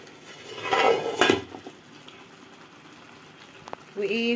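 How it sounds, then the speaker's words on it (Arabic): Cooked pasta for Egyptian koshari is poured into a colander, a brief loud splashing rush of water that fades into quiet kitchen noise, then ends in a short metallic clatter. "اطلعها واصفيها في المصفى"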